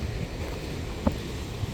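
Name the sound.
loud ocean waves and wind on an island shore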